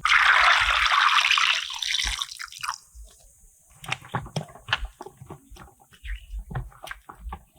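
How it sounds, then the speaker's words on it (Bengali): Amla (Indian gooseberries) being washed in water, with a splashing pour at first, then scattered drips, sloshes and knocks of the fruit being handled, close by and with no talking. "এই আমলকিগুলো প্রথমে আমি ভালো করে ধুয়ে নেব"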